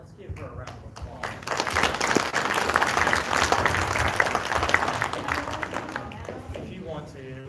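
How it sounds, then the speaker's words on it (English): Audience applause for a speaker at a school-style gathering, a dense burst of clapping that swells and holds for several seconds before tapering, with voices heard over it at the start and end. "Mara, let's give her a round of applause."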